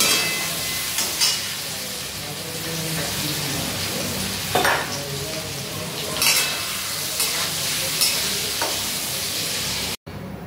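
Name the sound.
stirring and frying potatoes in a pan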